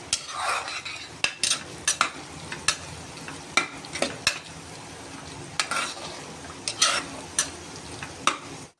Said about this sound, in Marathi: दोन ते 3 मिनिटं मसाला चांगला शिजू देणार आहेत आपण